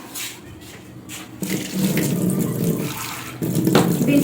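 Tap water runs steadily into a sink while vegetables are washed under it, close and full, with the flow getting louder twice as the stream shifts or hits the produce; no talking.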